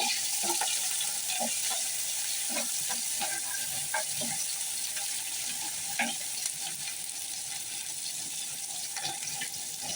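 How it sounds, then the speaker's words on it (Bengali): Shrimp frying with browned onions in a pan for a taro stem curry, a steady soft sizzle with occasional stirring clinks and scrapes, no talking. "পেঁয়াজগুলোকে বাদামি কালার করলাম, তার সাথে দিয়ে দিলাম চিংড়ি মাছগুলো"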